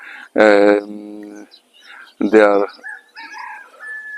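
Two loud, close bird calls ring out outdoors, each a harmonic burst about a second long with a pause between, followed by fainter chirps.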